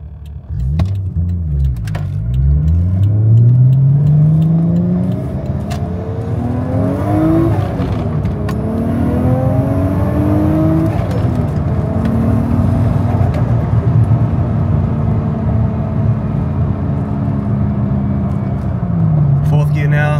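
A Toyota JZX100 Mark II engine accelerates through the gears from inside the car, revs climbing and dropping at each shift into a sustained cruising drone, with someone talking over it.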